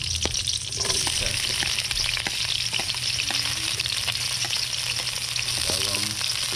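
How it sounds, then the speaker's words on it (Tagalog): Garlic and onion sauté in hot oil in a pan at an outdoor catch-and-cook meal, a loud continuous sizzle with stirring clinks and a faint voice in the background. "Maggisa na po tayo"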